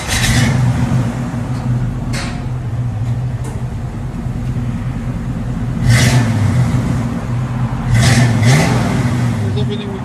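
A 1978 Chevy Camaro V8 with a Flowmaster 40 Series true dual exhaust rumbles at a steady deep idle, with a few louder blips of revving, all close by.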